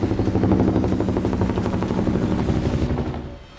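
Indian Navy rescue helicopter over the Arabian Sea during a crew rescue, a loud, steady rotor chop that fades out near the end.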